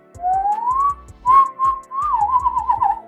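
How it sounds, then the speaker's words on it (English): An inward whistle drawn in on the breath for a beatbox whistling technique, a clear rising tone followed by wavering held notes over a steady low thumping beat, loud and close. "you're going to need an inward whistle this time"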